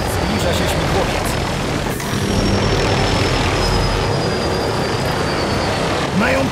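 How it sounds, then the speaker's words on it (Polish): A helicopter approaches in the video game Turok, its rotor and engine making a loud, steady, broadband roar that stays constant for several seconds, with a faint high whine above it. "Zbliża się śmigłowiec."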